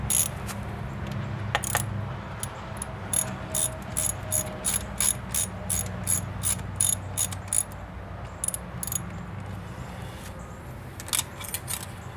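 A ratchet with a 5/8 socket turns a bolt on a 25 horsepower Mercury two-stroke outboard, clicking in rapid bursts of metallic pawl ticks with short pauses between strokes, close and clear over a low background hum.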